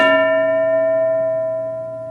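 A single stroke of a school bell rings out loud and clear, its metallic tone holding steady and slowly fading over two seconds.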